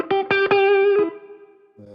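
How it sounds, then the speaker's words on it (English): Electric guitar notes played through a Bricasti reverb: a few plucked, sustained tones ring out warm and round, with a long reverberant tail fading before a new chord enters at the end. "You can hear the reverb there as well, the Bricasti."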